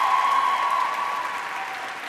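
Audience applause at a university graduation ceremony greeting journalism graduates, a steady, dense wash of clapping from a large crowd that holds at an even level and fades slightly toward the end.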